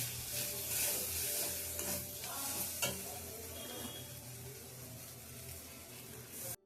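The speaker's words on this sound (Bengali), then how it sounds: "এই যে আমি আদা রসুন পেঁয়াজ টমেটো আর জিরে গুঁড়ো ধনে গুঁড়ো সব দিয়ে মানে মশলা কষিয়ে" Masala of ginger, garlic, onion, tomato, cumin and coriander powder frying in a pan, a steady close sizzle with occasional stirring scrapes throughout.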